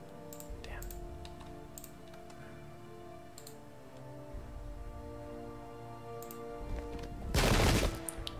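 Musket return fire in the black-powder era strategy game Pike and Shot, heard as scattered crackling shots through the clip, building to a loud dense volley near the end over a low game music bed.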